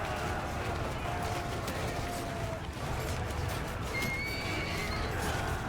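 A horse in the medieval combat game Mount & Blade II Bannerlord gives a clear whinny over a constant wash of battle noise and hoofbeats, with a few higher shrill cries near the end.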